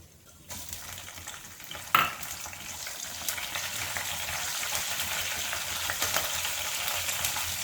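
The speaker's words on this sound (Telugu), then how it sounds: "ఆయిల్ వీటెక్కిన తర్వాత మనం ఆవాలు, జీలకర్ర వేసుకుందాం. ఆవాలు, జీలకర్ర వేయించుకున్న తర్వాత కొంచెం ఫ్రై అయినాక" Mustard seeds and cumin fry in hot oil for egg fried rice, giving a steady, close crackling sizzle with a sharp pop near two seconds, continuing unbroken with no voices.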